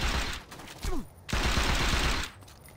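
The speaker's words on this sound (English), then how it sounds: "I honestly love the pistols in this game" Pistol fire in the video game Saints Row 2, rapid bursts of close, loud shots in two clusters separated by a brief pause, with a short voice cutting in between them.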